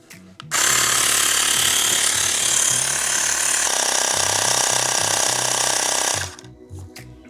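Electric pump inflating an electric scooter tyre toward 36 psi, a loud, harsh buzzing drone that starts abruptly, holds steady for about six seconds with a slight drop in pitch midway, then cuts off with a few faint clicks.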